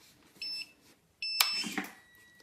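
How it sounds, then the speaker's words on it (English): Radio transmitter for a 1:48 scale RC model ferry, Queen of Nanaimo, giving error beeps on power-up: a short clear tone, a pause, then a longer beep sequence, close and loud in a quiet room. "When you turn on the radio and it beeps and you get a little error here"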